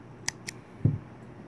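Scissors cutting yarn at the close of a crocheted granny square, two quick faint snips followed by a soft dull rustle, close and otherwise quiet.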